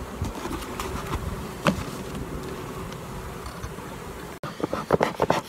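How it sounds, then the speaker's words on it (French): Honeybees buzz densely around the brood frames of a nucleus hive, a continuous close hum with a few louder passes, then brief handling knocks near the end. "Il y a encore des abeilles dedans."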